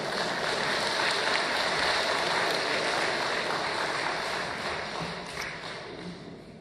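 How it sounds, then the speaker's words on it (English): A conference audience applauds, a dense clapping wash that holds steady and then gradually thins and fades toward the end, with no voices over it. "give Cameron another round of applause"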